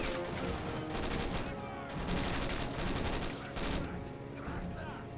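Sustained machine gun fire and scattered gunshots from World in Conflict, an infantry battle with machine gunners clearing a house during an invasion of Seattle, dense and continuous bursts with a voice faintly under the shooting.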